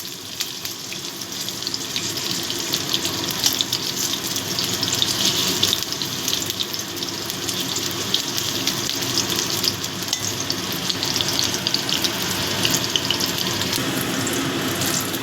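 Eggplant frying in hot oil, a steady close-up sizzle and crackle that continues evenly throughout with no voices.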